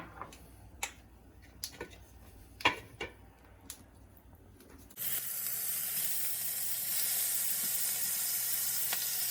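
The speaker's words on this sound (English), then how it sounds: "then we're going to go ahead and put the shrimp in" A few sharp clicks and taps come first, then raw shrimp hit a hot pan and a loud, steady sizzle takes over and holds to the end.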